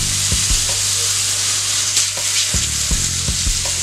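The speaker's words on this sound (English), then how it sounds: "So my purpose of using this is to get a sear on these country style ribs." Country style ribs sear in a hot pan, a loud, steady sizzle and crackle with a few soft knocks and clinks of handling, close by and without speech.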